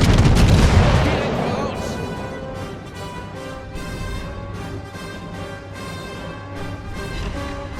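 Heavy naval guns of the battleship Tirpitz fire in a naval video game. A booming salvo opens, then rumbling echoes and a music bed continue under a voice.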